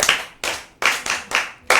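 An audience claps for a child at a Yoruba children's storytelling event, giving about six sharp, close claps in a steady, evenly spaced rhythm with no talking.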